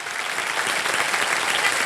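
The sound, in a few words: audience applause on a TV quiz show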